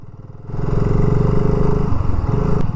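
A motorcycle ridden up through an English village, its engine starting low and then rising into a loud, steady mid-pitched drone with a brief dip in revs near the end, close and without speech.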